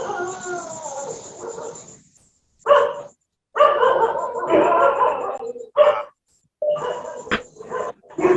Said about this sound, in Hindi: डॉक्टर साहब आपके यहाँ से कुत्ते की आवाज आ रही है